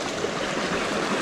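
Rainwater rushes steadily through a canyon stream after a rainstorm, a dense, continuous close-up wash of flowing water with no voices.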